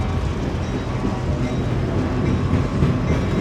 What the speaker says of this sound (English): This one's blowing its horn.